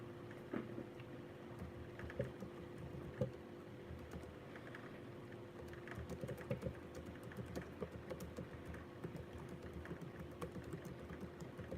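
Someone types a message on a keyboard, producing a steady, quiet patter of close key taps with occasional louder clicks over a low background hum.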